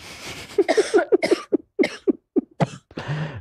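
A series of rough, throaty coughs in quick bursts, close and fairly loud, with a breathy exhale at the end.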